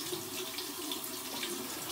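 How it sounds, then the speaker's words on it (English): Tap water runs steadily for a cold-water hair rinse, a close, continuous hiss of flow without a break. "All right, we're gonna go ahead and do cold water rinse."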